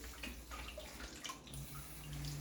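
Air burping out of a water filter system while the filter is being changed, a steady watery gurgle and rush of trapped air escaping, close and continuous with no talk.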